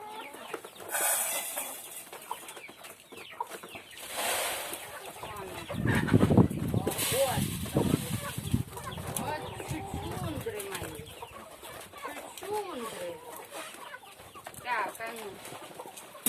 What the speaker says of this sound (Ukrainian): квочка там вже біжить з курчатами